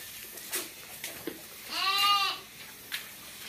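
On a farm where goats are being given fresh greens, a single goat lets out one clear, wavering bleat partway through, surrounded by quiet farmyard rustles and soft knocks.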